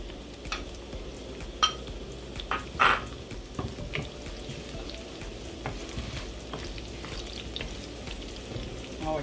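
Onions and tomato sizzling in a pan as they are stirred, a soft continuous fry broken by scattered clicks and utensil scrapes, fairly quiet and without talk.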